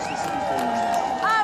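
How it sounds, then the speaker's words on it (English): A large crowd in Stratford, East London, waiting on the Olympic host city decision, sends up a steady wash of cheering and whooping with a brief rising whistle-like shout near the end, while people talk over it. "these crowds are already practicing their cheers right now"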